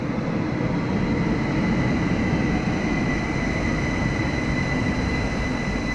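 An Algiers metro train running underground, a steady loud rumble of wheels and motors with a continuous high whine, sustained evenly throughout without any voices.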